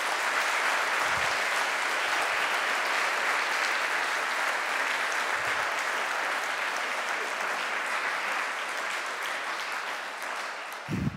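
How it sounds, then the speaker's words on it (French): A ceremony audience at the 31st Prix Droits et Libertés award gives the finalists a long, full round of applause, dense and steady clapping from many hands that holds evenly before easing slightly at the end. "J'aimerais donc qu'on donne une bonne main d'applaudissements à tous les finalistes"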